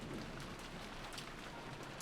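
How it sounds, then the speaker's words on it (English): Steady rain in the video game Umineko When They Cry falls in a dense, even hiss, with soft patters throughout and no voices. "The inside of the room was commanded by the stillness of the sound of the rain."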